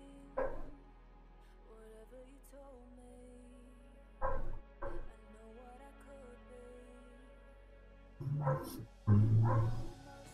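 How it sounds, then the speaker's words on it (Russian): A dog barks outside a window in several short, separate bursts with quiet gaps between them, the last barks the loudest. "Аж собака завелась за окном."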